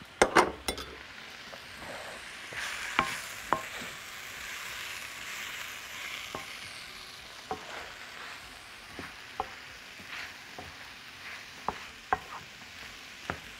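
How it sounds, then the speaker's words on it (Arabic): Curry powder, turmeric and paprika are stirred in a hot frying pan, a low continuous sizzle broken by sharp metal spoon clinks against the pan at irregular intervals. "نقلب كده كويس قوي."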